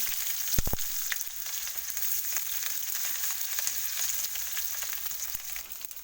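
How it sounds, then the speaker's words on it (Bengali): Chopped onions with chillies sizzle steadily in hot oil in a pan while cooking a rohu fish and jackfruit broth, a continuous close crackling hiss with a couple of sharp clinks early on. "আমি একটু পেঁয়াজটা ভাজা করে নেবো ভালো করে, তারপর রসুনটা দিয়ে দেবো।"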